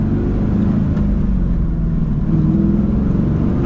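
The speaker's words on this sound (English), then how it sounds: "Just listen to that engine, it sounds so good." A Chevrolet Camaro, the overlooked "Catfish" generation, drones along while driving, its engine a steady, low, throaty rumble mixed with road noise, constant and close, with no voices over it.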